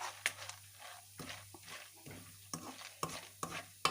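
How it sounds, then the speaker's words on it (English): Sugar melting among popcorn in a pot is stirred with quiet, irregular scrapes and taps over a low steady hum, with a few sharper knocks spread through the stir. "I'm stirring it because of the sugar."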